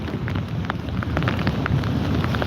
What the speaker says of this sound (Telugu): అయినా ఇప్పుడు ఎక్కువైంది బ్రో వర్షము ఒక్కసారిగా